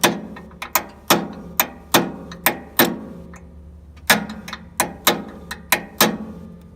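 Repeated metal-on-metal hammer blows ring out as a guide roller is beaten loose on a Timberking 1220 sawmill, about fifteen sharp, close strikes in uneven bursts with short ringing decays and pauses between groups.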